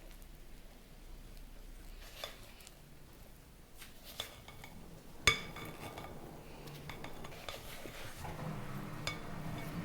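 Sweet rice-flour dough for shirini berenji is stirred in a bowl, with soft scraping and a few light clinks of utensil on the bowl, plus one sharper knock, all faint and close, with no voices.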